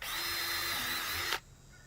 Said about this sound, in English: we're going to drill a pressure relief hole here